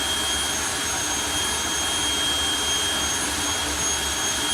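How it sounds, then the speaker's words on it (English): A jet car at the Bug Jam festival roars through its flame and afterburner show, a loud, continuous, unbroken blast of jet noise sustained for the whole stretch. "a flame and afterburner show."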